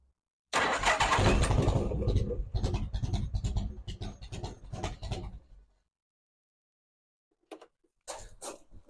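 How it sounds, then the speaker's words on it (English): A classic Harley-Davidson Tour Glide, unstarted for months, cranks and fires loudly up close in a rough, pulsing burst lasting about five seconds before cutting out. Quiet follows, then two brief knocks near the end. "let's see if that starter motor will do its job and turn over"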